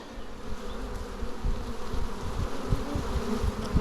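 A dense swarm of honeybees buzzes loudly and continuously at close range while a beekeeper shakes them off a hive frame, a steady drone with no talk over it.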